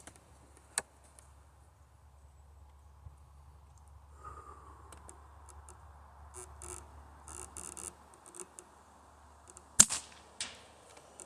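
Sharp, isolated cracks of a .22 rifle firing CCI and NormaTAC rounds at targets, a couple of distinct reports spaced seconds apart amid quiet outdoor ambience.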